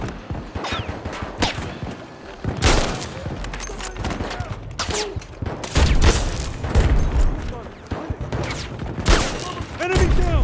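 MG42 machine gun fire in Battlefield 2042's Portal mode, with loud, close bursts of rapid shots mixed with booms and distant gunfire, and voices talking over the fight.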